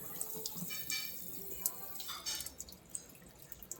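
Water trickling and dripping as it drains out of a household water filter after its pressure pin is released, small irregular drips and splashes close by, with no talk.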